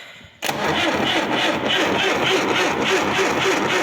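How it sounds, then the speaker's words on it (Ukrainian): An MTZ tractor engine cranks and catches after a compression check, then settles straight into a loud, steady running clatter close by. "Завівся, то хорошо, проробився, вроді чисто працює."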